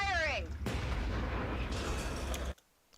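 A tank autocannon in a Warhammer 40k animation fires one heavy, booming blast up close. A roaring rumble follows and then cuts off abruptly, with a brief whistling tone just before the shot.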